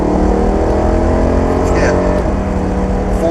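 A BMW M3 engine drones steadily and loud through the whole stretch, a racing-style run with the throttle gently squeezed as it pulls on track, with a voice talking over it.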